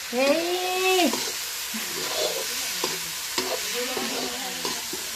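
Ongoing sizzle of potatoes and onions frying with rhythmic stirring scrapes; a brief tonal voice or squeal rises at the start over the hiss.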